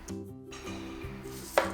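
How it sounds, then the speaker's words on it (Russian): Half a medium head of cabbage is finely shredded with a knife, producing quick rhythmic chopping strokes at close range, fairly quiet and without speech. "Беру половинку среднего кочана капусты и тонко нарезаю, шинкую при помощи ножа."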